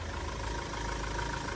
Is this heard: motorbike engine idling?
yes